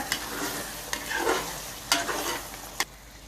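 Butter being stirred into a chicken coconut curry frying in a pan, with steady sizzling and a few sharp scrapes of the spoon against the pan, close and continuous with no talking.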